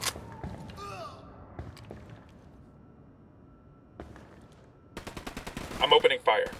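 Gunfire in Ghost Recon Wildlands: scattered single shots early on, then a rapid burst of loud, close automatic fire near the end, with someone speaking over part of it.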